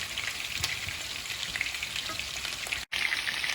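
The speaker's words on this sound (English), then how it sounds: "she's still adding the meatballs to the frying pan" Meatballs sizzle steadily in a hot frying pan, a constant crackling hiss with a few louder pops and one brief dropout near the end.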